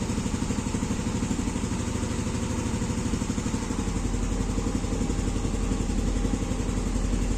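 A motorcycle engine idles steadily and evenly in a workshop during fault diagnosis for an Error 46 code, a close, continuous low chug with faint clatter and no voices.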